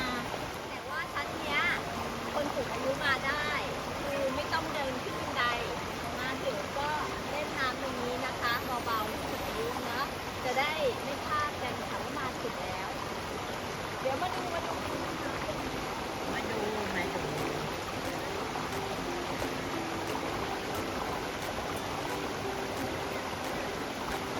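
Clear water of the Sapan waterfall stream in Nan flows over rocks, making a steady, full rushing wash that carries on throughout while someone talks over it.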